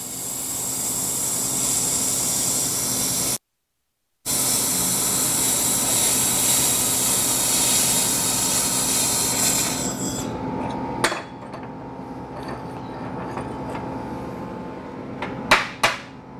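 A Zumaq laser welder works on metal with a loud, steady hissing roar that cuts out briefly, resumes, then stops near the end, leaving quieter room noise broken by a few sharp metallic clicks and taps.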